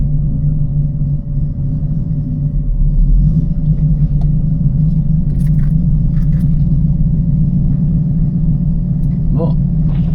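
A TVR Chimaera engine idling with a low, steady, throbbing rumble that stays loud and close throughout, with faint clicks and rattles near the end.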